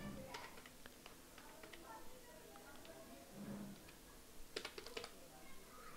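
Computer keyboard keys clatter softly while PHP code is typed, with scattered taps and a brisk cluster of keystrokes near the end, faint and under a quiet room tone with speech.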